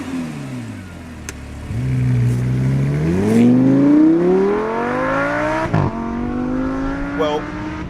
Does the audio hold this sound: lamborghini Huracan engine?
yes